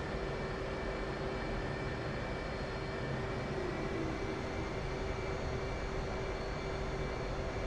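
An F/A-18C jet taxis in the DCS flight simulator game, giving a steady, continuous engine roar with a thin high whine over it, even and unbroken throughout.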